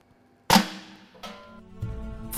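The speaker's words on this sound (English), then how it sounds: "there's a special machine into which you shoot the cork" A sparkling wine cork is shot out during disgorging of Abrau-Durso Alexander II, giving one sharp loud pop followed by a fizzing hiss, then a couple of softer clunks and knocks.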